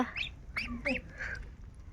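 Ducks on a duck farm give a few short, nasal quacking calls in quick succession at moderate distance over a faint background murmur.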